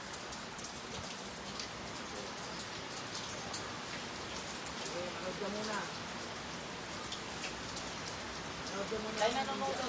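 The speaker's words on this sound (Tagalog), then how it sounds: "Ang lakas ng ulan." Heavy rain pouring steadily, a dense continuous hiss with faint voices murmuring underneath.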